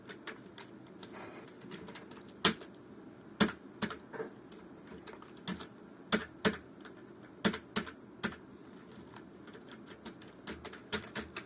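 Computer keyboard typed on while a program is written, with irregular quick clicks and occasional sharper keystrokes in a quiet room, no talking.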